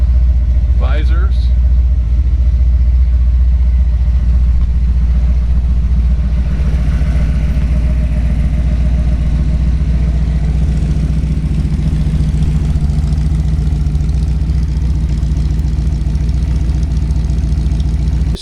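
A 1932 Ford three-window coupe with a 351 Windsor stroker V8 of about 408 cubic inches and a 700R4 gearbox idles with a deep, steady rumble. Someone talks over the engine from start to finish.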